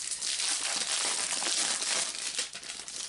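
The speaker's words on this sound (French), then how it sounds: "Ah, désolé pour le bruit du plastique." Continuous loud crinkling of plastic packaging, rustling steadily for a few seconds with no talking.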